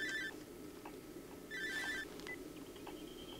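An old-style telephone in the Cry of Fear horror game rings in short trilling bursts, two distinct rings with a quiet low hum between them.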